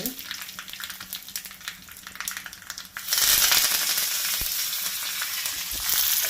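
Asafoetida, red chillies and curry leaves hit hot oil with a sudden loud sizzle that keeps crackling steadily and close, after quieter pan and stirring sounds.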